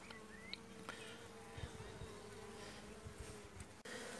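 Honeybees hum in a steady, low buzz close by at an open hive during a hive inspection, with soft scraping and tapping sounds mixed in and a brief thump near the end.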